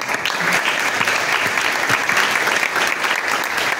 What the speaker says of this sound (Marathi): टाळ्या वाजवूया आपण.